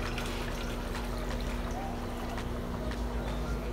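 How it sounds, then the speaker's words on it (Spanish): Dirty water pours and trickles out as an aquarium sponge filter is rinsed, a steady close splashing flow at low level with some faint background noise. "Miren cómo sale negra esa agua."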